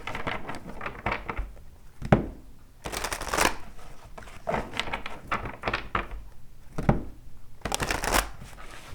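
Tarot cards are riffled and shuffled by hand close up, with irregular bursts of crisp flutter and slapping bridges separated by short pauses, quiet and intimate.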